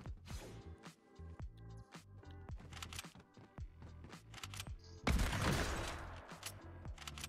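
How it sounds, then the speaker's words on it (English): Gunshots in the game Fortnite, a string of sharp, evenly spaced reports at moderate distance followed by a louder burst of noisy impact and debris, with no talking. "I shot your target."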